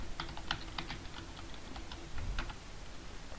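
Soft, rapid clicks from a computer keyboard as a password is entered during Bash setup on Windows 10, close-up and steady over a light background hiss.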